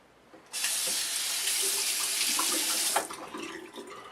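A bathroom tap turns on and runs in a loud, steady stream into the sink for about two and a half seconds while someone rinses off after shaving, then the flow changes and fades.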